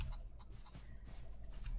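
Chickens cluck softly in a coop in the Wild West video game Outlaws of the Old West, a few faint, scattered clucks over low background noise.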